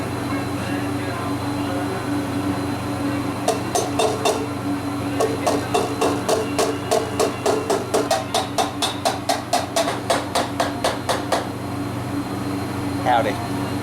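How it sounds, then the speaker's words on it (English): A copper part is hammered while an old puller is being rebuilt: a long run of evenly spaced metallic taps over a steady mechanical hum, with a few scattered knocks at the end. "Now, let's see if we can hammer one."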